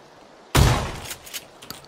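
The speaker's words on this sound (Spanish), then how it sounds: "oigo un disparo muy cerca" A single sharp gunshot goes off close by in a multiplayer shooter game, one loud blast with a brief ringing tail and faint clatter afterward, with no talk during it.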